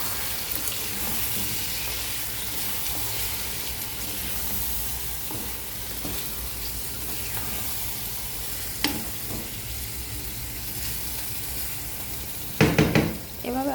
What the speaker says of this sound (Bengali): আমি এখন টমেটোগুলো ওখানে ঢেলে দিব, একটু নাড়া দিয়ে দিব